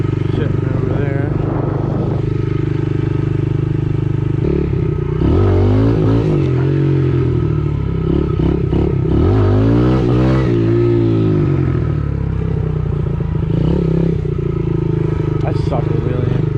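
TTR-110 dirt bike ridden off-road and revved, its small engine buzzing steadily and surging in pitch as the throttle opens for wheelie attempts, loud and close throughout, with wind noise.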